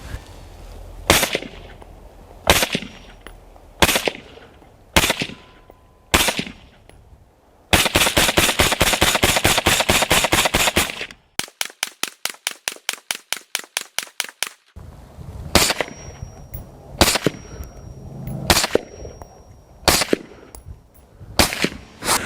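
Bursts of suppressed AR-15 rifle fire, single shots and rapid strings, crack out sharply in the open, with pauses between volleys and a long fast run in the middle.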